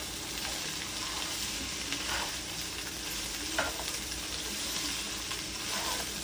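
Carrots and onions sauté in a pan for pancit bihon guisado, a steady close sizzle with occasional stirring scrapes running throughout, no talking.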